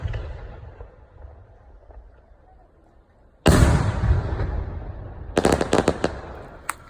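Aerial firework shells launched and bursting close overhead at a fireworks demonstration in Liuyang, China: a sudden loud blast followed by sustained crackling roar and a cluster of sharp pops near the end.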